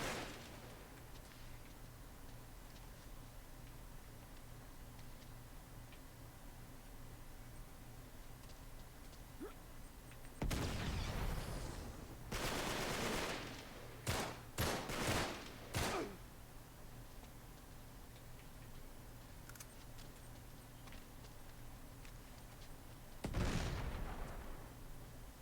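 Grenades explode in Uncharted 3: Drake's Deception, several sharp blasts clustered midway and another near the end, standing out against a low, quiet game backdrop.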